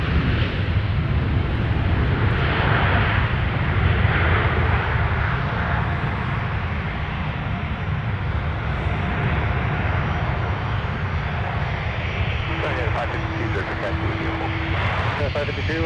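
Delta Airbus A321neo arriving at Minneapolis–Saint Paul airport from Seattle, a loud continuous jet engine roar with broadband rumble holding steady throughout, with a brief tonal whine near the end and speech over it.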